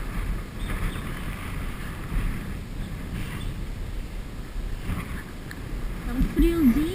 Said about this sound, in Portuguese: Na verdade não é frio, é o vento que tá forte.